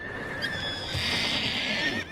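Horses whinny and neigh in a cartoon, a sustained high, bright call lasting about two seconds against a busy background, with no talking.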